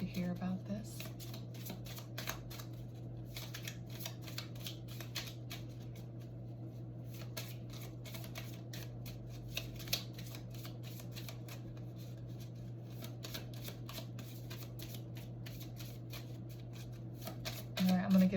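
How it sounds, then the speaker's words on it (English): Repeated riffling of a card deck being shuffled, quick papery bursts close by, with low voices murmuring underneath throughout. "I'm going to give it 2 more shuffles through"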